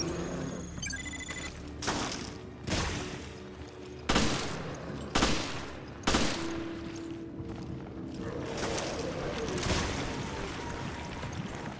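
Enemy gunfire in Resident Evil Revelations, a series of sharp shots and short bursts spread over several seconds. The shots ring out over a steady game background of rumble and ambience.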